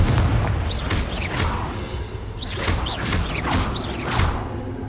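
Confringo fire spells cast in Hogwarts Legacy land in quick succession, a string of sharp, crackling bursts with creaking, mechanical edges set over a low rumbling bed of combat noise.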